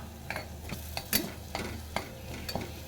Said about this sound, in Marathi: आता आपल्याला ह्याच्यामध्ये ॲड करायचं आहे साधारण दोन चमचे शेंगदाण्याचं कूट थोडंसं मिक्स करून घ्या